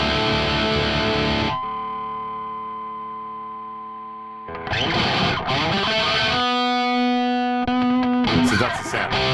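An electric guitar played through a Safari Pedals Dirty Dog overdrive with the reverb switched off gives gritty, distorted strummed chords and sustained ringing notes that fade and then return, loud and upfront with no voices.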